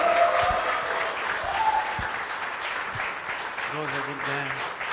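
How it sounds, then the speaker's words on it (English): Audience applause fills the room after a pool final, a steady dense clapping wash that holds for the full stretch, with a few faint voices and brief tonal sounds mixed underneath. "one more round of applause for an absolutely incredible final"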